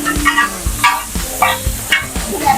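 Tibs meat frying in an iron pan, a continuous loud sizzle broken by a regular run of scraping and stirring strokes, close up.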